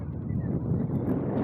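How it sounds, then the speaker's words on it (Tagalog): Strong wind roars steadily and loudly across the microphone, a continuous broadband buffeting with no letup, out in the open at an off-road 4x4 challenge. "Sobrang lakas ng hangin yan."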